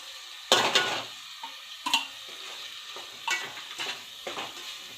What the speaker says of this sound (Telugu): వేగుతుందండి, ఇంకొక 5 నిమిషాలు వేగనిస్తే.